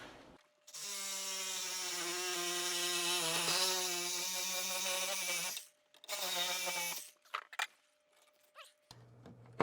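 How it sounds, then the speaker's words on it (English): A power tool cuts through a pipe and its flange during a small bathroom remodel, a loud, steady whining drone lasting several seconds before a short second burst and then quiet. "we really need to cut this pipe right about here. Cut that flange off."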